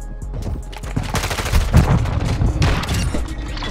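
Gunfire from a shooter video game: a rapid cluster of loud shots and bursts, dense and punchy for several seconds with a few isolated cracks around it, no speech.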